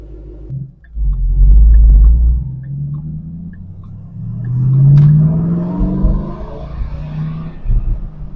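A 2014 Ford Mustang Shelby GT500 rumbles out of a garage, its deep engine swelling loudly with a couple of revs, then settling into a lower, steady drone as it rolls away at close range.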